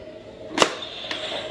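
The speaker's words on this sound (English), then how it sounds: "you did get a sound effect with the release of the lever" A toy Ghostbusters Plasma Series proton pack Neutrona Wand gives a sharp click-and-whoosh as its lever is released, then a second fainter click, over a steady thin electronic hum.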